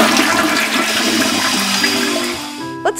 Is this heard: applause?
no